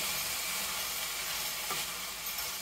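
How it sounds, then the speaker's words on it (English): Steady loud sizzling of a spicy stir fry with Worcestershire sauce being stirred in a hot pan, a continuous hiss with faint scraping throughout and no voices. "Right, let's stir that around."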